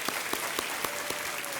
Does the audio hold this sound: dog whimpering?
no